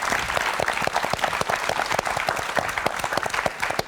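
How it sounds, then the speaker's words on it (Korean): Studio audience applause on a Korean TV book-talk show as a guest author is welcomed, a steady dense clapping from a full crowd lasting throughout with no talk over it. "박수 좀 주세요."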